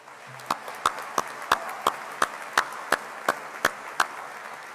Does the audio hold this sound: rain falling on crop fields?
no